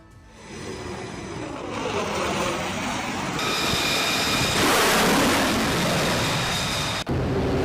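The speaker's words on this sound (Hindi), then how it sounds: "वॉरशिप से फाइटर जेट की ताकत दिखाई गई है।" A fighter jet flies from the warship USS Abraham Lincoln: a loud broadband roar swells and holds steady, then drops briefly just before the end.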